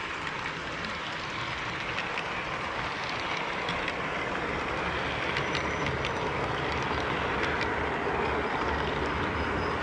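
A Conrail train rumbles past in a steady, continuous roar with a low, heavy rolling drone and faint higher rattles throughout, no voices.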